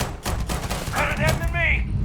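Gunfire in the video game Starfield, a quick burst of heavy shots and thuds packed into two seconds, with a voice briefly calling out over the shooting.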